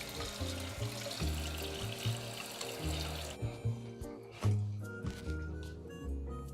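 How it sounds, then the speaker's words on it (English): Warm tap water runs steadily into a kitchen sink during handwashing before baking cookies, a continuous splashing flow with shifting, squishy surges as hands move under the stream, close and fairly loud, no talk. "Before we start handling ingredients, I'm going to always wash my hands."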